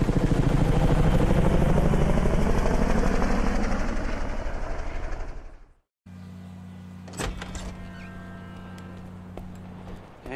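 A helicopter in GTA 5 Online roars loudly with dense rotor chop for several seconds, then cuts abruptly to a quieter humming engine with a few clicks and knocks.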